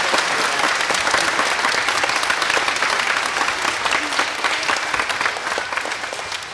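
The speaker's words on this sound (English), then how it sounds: "let's give these guys one more round of applause" An audience at a school spotlight showcase gives a loud, sustained round of applause: dense clapping from a large crowd, steady from start to finish with no voices.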